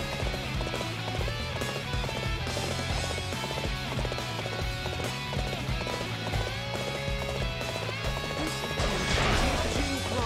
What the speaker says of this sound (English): That horse is definitely there.